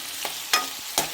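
Bottle gourd pieces cook with tamarind in a pan, a soft sizzle underneath as a utensil scrapes and stirs in three distinct strokes.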